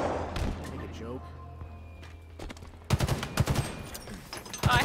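Gunfire bursts in the Halo Infinite video game, a sparse volley of shots followed by denser rapid fire in the second half, heard under ongoing talk and game sounds.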